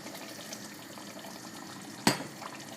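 Water added to eggplant frying in a pan for ragout, a continuous sizzling hiss with one sudden loud splash and spatter about two seconds in, close by.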